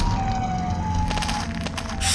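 A Siren Head creature in a 2020 horror game lets out a steady, wailing siren tone that holds evenly over a low rumbling backdrop, with brighter noise bursting in near the end.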